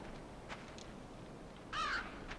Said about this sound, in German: Oh, und der Rabe da, will der auch ins Team?